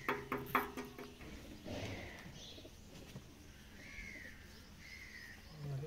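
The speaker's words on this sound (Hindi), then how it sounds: "एक नंबर कबूतर" Pigeons coo and call in short tonal phrases amid a busy outdoor background at a pigeon-flying tournament, with a few clattering knocks at the start.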